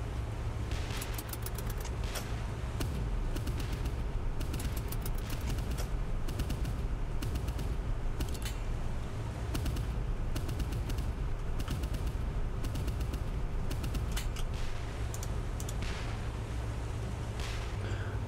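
Ship guns fired by the crew in Boat Crew crack in repeated bursts of rapid gunfire over a constant low engine rumble, irregular volleys continuing throughout without talk.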